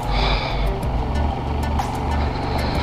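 A motorcycle engine on the road to Chopta, throttled while riding in freezing cold, gives a loud, steady low drone with wind rush, close and continuous for a few seconds, without talking.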